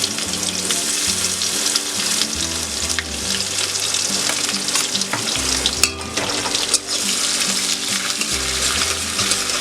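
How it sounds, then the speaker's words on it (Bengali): Chopped onion frying in hot oil with a bay leaf for an egg curry, giving a steady, close sizzle and crackle that runs unbroken throughout, with an occasional light stir of the pan. "আমি এখানে 2 টেবিল চামচ মতো পেঁয়াজ কুচি দেবো"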